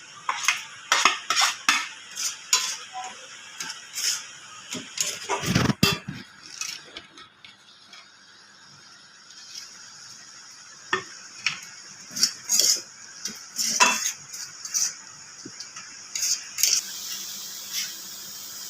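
Grated coconut stirred into melted jaggery in a pan: repeated sharp scrapes and clinks of a metal spoon against the pan, coming in irregular bursts, close and fairly loud, with short pauses between strokes.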